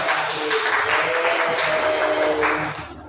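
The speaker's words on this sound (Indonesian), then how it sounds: "Tepuk tangan dulu dong." A classroom of high school students applauds during a group presentation, a dense burst of clapping that holds steady and then tapers off, with some murmuring voices underneath.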